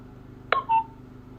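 A wireless outdoor security camera emits a short two-tone electronic beep after its reset button is held, a quick chirp followed by a sustained tone, clear against a quiet room hum.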